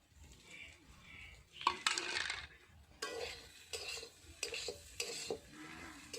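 Utensil scraping and clinking in a pan as onion stalk curry with cauliflower, potato, egg and coriander leaves is stirred, with irregular close stirring strokes and brief clatters, no talking.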